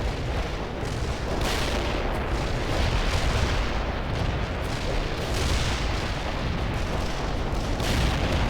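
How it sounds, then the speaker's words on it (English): Anti-tank strike in the World in Conflict video game, a dense, continuous roar of overlapping explosions and booming artillery rumbling loudly throughout without pause or voices. "Anti-tank strike is inbound."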